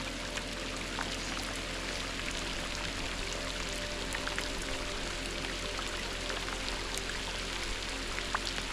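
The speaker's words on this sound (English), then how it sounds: "It's really raining now." Steady rain falls during a storm on a back-country fishing trip, giving a constant hiss of drops with scattered louder splashes and no talk.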